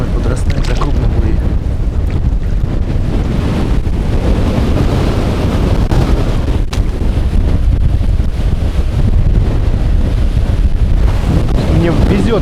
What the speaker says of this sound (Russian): Как получается поехать, так обязательно ветер.